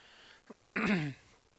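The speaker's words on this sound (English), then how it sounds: "you're going to hear me clear my throat" A single short throat clearing close to the microphone, a quick rough burst after a brief catch, in an otherwise quiet room.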